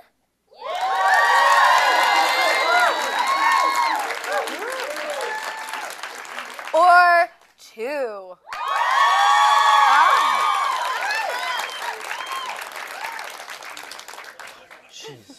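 A studio audience at a Valentine's Day special cheers, whoops and applauds loudly for a contestant, a full roar with shouting that briefly drops away while a host speaks, then surges again.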